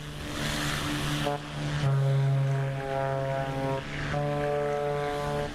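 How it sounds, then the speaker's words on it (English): A Black Square B60 Grand Duke piston twin in Microsoft Flight Simulator 2024 drones steadily, its engine and propeller tones shifting in pitch as power changes, loud and continuous with no talking. "The sounds on this aircraft are absolutely gorgeous."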